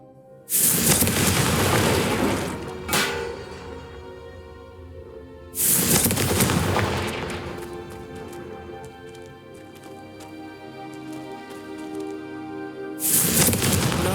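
Confringo fire spells from Hogwarts Legacy erupt in three loud, booming explosions, each a broad burst that fades into a crackling rumble before the next, with no talking.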